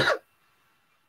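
A single short, close cough bursts out at the start and then stops, leaving near silence with only faint background hiss.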